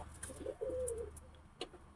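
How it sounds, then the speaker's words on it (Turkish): Domestic pigeons cooing in a loft, a soft low warbling coo drawn out in the middle, close by, with faint outdoor rustle and no talking. "Abi Joker nasıl ötüyor?"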